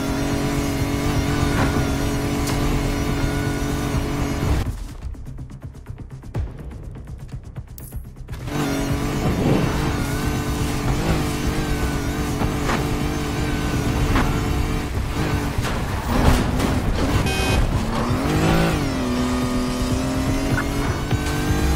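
A car drives hard in the Need for Speed Heat racing game, its engine roaring steadily and loud throughout, with a brief quieter dip midway before the revving returns alongside mechanical clicks.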